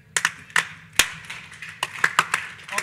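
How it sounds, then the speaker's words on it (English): An audience at a RISC-V software ecosystem conference claps along in a loose, uneven rhythm, sharp close hand claps coming in scattered bursts rather than steady applause. "Lewis is going to lead us in a little bit of clapping."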